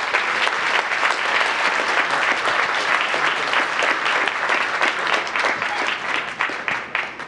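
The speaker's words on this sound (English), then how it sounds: "let's give them another big round of applause." A town council meeting audience applauds a state championship marching band with sustained, dense clapping throughout, loud and even, thinning into a few scattered claps near the end.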